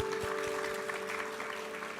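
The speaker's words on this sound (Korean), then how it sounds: "우리 하나님께 감사와 영광의 박수 올려드리겠습니다" A church congregation applauding during a Korean Sunday worship service, a steady wash of clapping with a sustained tonal hum beneath, moderately distant and continuous throughout.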